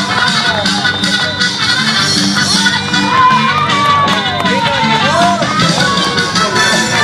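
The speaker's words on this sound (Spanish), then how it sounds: "Que se escuchen los aplausos" Spectators cheer and shout at a neighborhood bicycle race in San Miguel, Acatlán de Osorio, a loud continuous crowd roar with rising yells and whoops.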